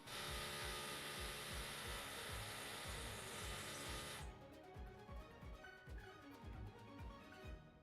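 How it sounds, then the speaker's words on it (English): A power drill whines steadily in the background for about four seconds, then breaks into irregular short bursts and knocks. No voices are heard. "Sorry for the drilling"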